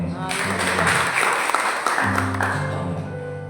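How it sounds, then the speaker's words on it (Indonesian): Congregation clapping during a Christian sermon, a steady wash of applause throughout with a preacher's voice and music-like tones running underneath, loud and sustained. "Tepuk tangan buat Tuhan Yesus"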